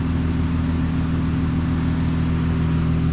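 Car engine fitted with an RV6 long-tube J-pipe exhaust, a steady low droning hum held close and loud for a few seconds without any voices.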